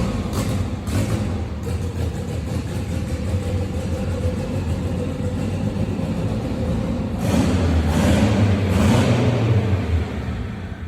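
A boosted EK-chassis car engine with a rough, off tune runs on its first drive: a loud, steady, lumpy rumble that swells noticeably toward the end, with no voices.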